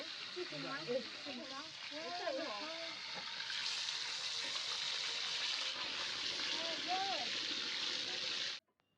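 Fish frying in hot oil, a dense steady sizzle running loud and close for most of the span before cutting off abruptly, with a person talking over the first few seconds and briefly again later.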